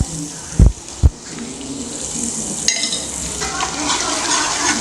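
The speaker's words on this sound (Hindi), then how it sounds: "अब ये अदरक लहसुन का पेस्ट डालना है" Oil sizzles steadily as ginger-garlic paste is stirred into frying onions, with two sharp knocks of a spoon against the pan near the start.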